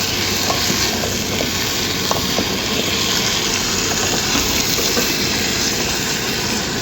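Carrots stir-fried in a pan make a steady loud sizzle and crackle that runs throughout, with light scraping from stirring and no talk.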